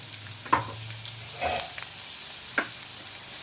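Chopped onions fry in oil in a pan for kothu parotta, a soft steady sizzle with a few scraping stirs and clinks, fairly quiet and without talk.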